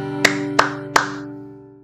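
Children clap their hands along to a song, three sharp, evenly spaced claps ringing out over a sustained musical chord that slowly fades.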